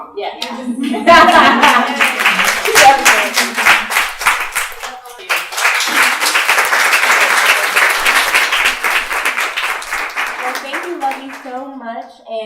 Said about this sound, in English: I want us to give a real round of applause for Luvvie and her time and everything